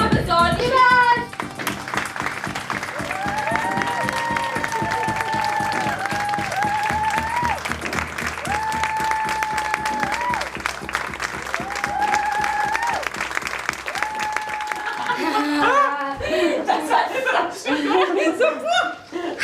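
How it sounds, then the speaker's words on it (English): Theatre audience applause, loud and sustained, with cheers, whoops and laughter mixed through it and a dense music-like tonal layer over the top; voices break through near the end as the clapping fades. "the thunderous applause and euphoria"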